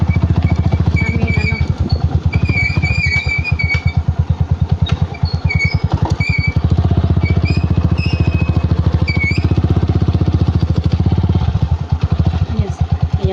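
Motorcycle ridden along a village road, its engine thrumming steadily and unbroken throughout, close and loud, with faint rattles over the top.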